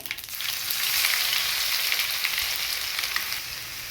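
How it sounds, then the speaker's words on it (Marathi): Mustard seeds, cumin and crushed garlic tempering in hot oil for masala dal khichdi, a loud, steady bright sizzle close up with crackling pops, no talking. "तडका देऊयात मोहरी जिरे ठेचून घेतलेलं लसूण आहे"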